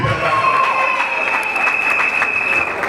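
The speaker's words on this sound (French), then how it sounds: "Alors, est-ce qu'on peut l'acclamer, s'il vous plaît?" Wedding guests at a religious ceremony break into steady, sustained applause for the groom, dense clapping with a few cheers mixed in throughout.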